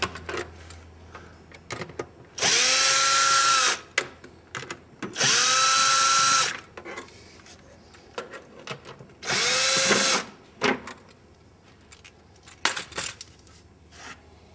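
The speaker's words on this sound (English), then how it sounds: "I find it's easiest to use a cordless drill motor" A cordless drill backs out the clutch cover screws on a Polaris Ranger, three loud whirring bursts of about a second and a half each with ramping motor pitch, separated by small clicks and handling noises.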